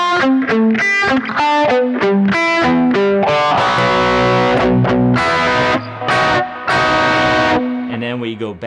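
A distorted electric guitar plays a riff with neighboring-tone embellishments, loud and close: quick picked notes run downward, then sustained, ringing chords and bends follow with no talking.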